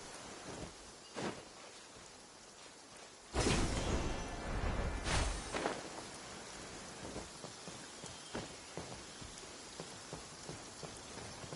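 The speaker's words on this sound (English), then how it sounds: "This heavy rain must be quite an inconvenience for you." Heavy rain in the video game Genshin Impact, a steady wash of falling rain with a louder gusty surge partway through and scattered drop hits, heard alone with no voices.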